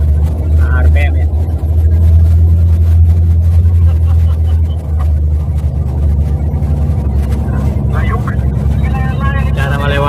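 A Dongfeng truck engine labors in low gear at about 1600 RPM while it climbs a soft, muddy incline, giving a loud, steady low drone throughout. Someone talks over the engine noise.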